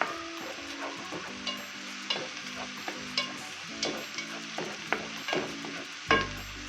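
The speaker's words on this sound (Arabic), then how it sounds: "نزلت بالبصل هزن بقطعتين من الدهنة" Onion pieces fry with chunks of fat in a pan, a continuous close sizzle broken by repeated scraping stirs at an uneven rhythm, ending in a louder clatter, with no voices.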